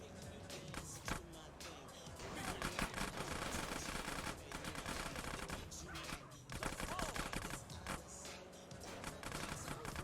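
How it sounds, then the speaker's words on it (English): Rapid, repeated gunshots in GTA San Andreas Definitive Edition crackle over a rumbling car engine and clatter, dense and sustained, with bursts of automatic fire. "Carl, just concentrate on the driving, and we'll take care of the shooting"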